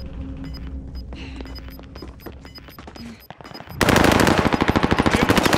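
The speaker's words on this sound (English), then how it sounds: "Taking shots here." Gunfire in the video game Call of Duty: Modern Warfare: scattered single shots and clicks give way to a loud, sustained rapid automatic burst close by.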